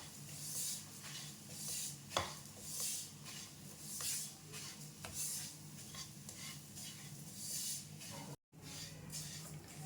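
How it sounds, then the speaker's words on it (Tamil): Semolina (rava) roasting in a kadai over low heat, a spoon stirring and scraping through the dry grains with a soft continuous hiss and occasional metallic taps against the pan, quiet and close, no talking. "கடாயை சிம்லே வச்சு நல்லா ரோஸ்ட் பண்ணிக்கோங்க"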